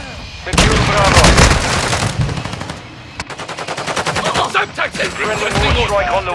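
Heavy automatic gunfire and booming artillery strike from a Call of Duty: Modern Warfare II battle, loud and dense throughout with rapid rattling bursts and a pause near the middle before firing resumes.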